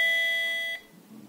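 ESP8266-based WiFi smart doorbell lets out a single bright electronic tone that sustains briefly and then cuts off, leaving quiet room noise.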